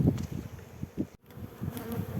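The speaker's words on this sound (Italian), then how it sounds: "api ci sono" Honeybees buzz at an opened beehive nucleus during an early-season inspection, a dense, steady low hum with a brief dropout partway through.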